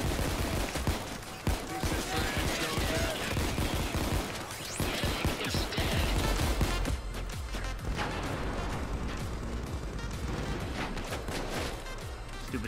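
Dense bursts of gunfire aimed at the player in a Payday 2 heist, rapid overlapping shots and crashes, loud and chaotic, thinning out somewhat toward the end, with voices talking over it.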